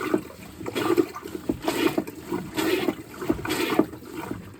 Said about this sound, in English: so to fill the bowl, to charge the bowl, put the lever across to here to fill it with water. Let me pump.